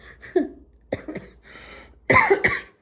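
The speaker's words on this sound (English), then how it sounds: "If you hear me coughing, I apologize." Several coughs in short bursts, close and fairly loud, with a pause between an early pair and a harsher double cough at the end.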